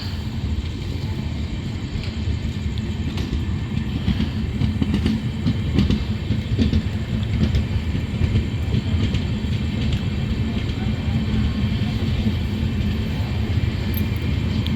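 A brand-new Amrit Bharat Express, a long-distance passenger train on its first commercial run, rolls past with a steady, loud rumble and rhythmic clickety-clack of coaches on the rails, continuous and close throughout.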